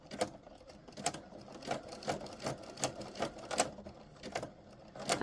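A sewing machine running in rhythmic bursts while stitching a jelly roll rug, the motor rising and falling with short pauses between runs, close and fairly quiet.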